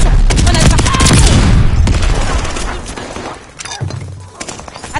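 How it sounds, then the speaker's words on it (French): In the Call of Duty Vanguard video game, a mortar barrage and gunfire rumble in loud, dense blasts and crackling shots that gradually fade. A low thud lands near the end, and brief game voice cues play over the action. "Attention, barrage de mortier."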